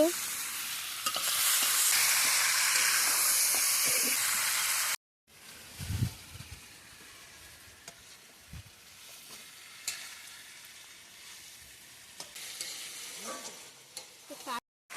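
Meat tipped into a pan of hot oil with cumin and onion gives a loud, dense sizzle close by, which cuts off, then settles into quieter frying and hissing with stirring clatters.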